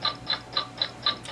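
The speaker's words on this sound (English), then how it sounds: "What is that mysterious ticking noise?" Steady mechanical ticking, five evenly spaced sharp clicks at roughly quarter-second intervals, close and crisp with no talk over it.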